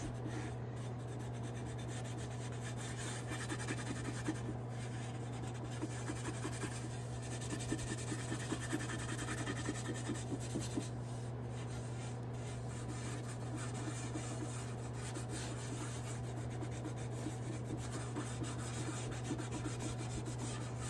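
A small pad rubbed over a decorative transfer on a thrifted decor piece, a continuous soft scratchy rubbing under a steady low hum, with no talking.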